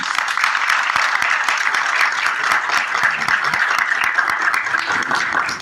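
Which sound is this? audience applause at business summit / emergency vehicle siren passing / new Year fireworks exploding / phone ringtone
audience applause at business summit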